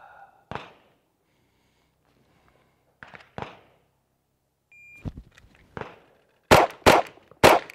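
Handgun shots ring out on a shooting range drill, sharp isolated reports with gaps between them, then a tight burst of three loud shots toward the end.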